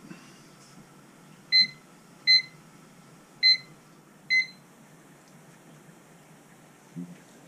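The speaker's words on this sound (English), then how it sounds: "I'll set the timer." Electronic kitchen timer being set beside an aluminium anodising setup, giving four short, clear beeps at uneven intervals over a quiet background hum.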